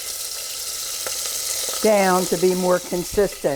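Veal pieces of mixed sizes browning in a pan for a herb veal stew, giving a steady sizzle that runs beneath a voice as she talks over the cooking.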